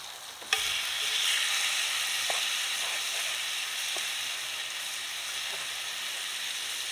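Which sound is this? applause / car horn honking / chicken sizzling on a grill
chicken sizzling on a grill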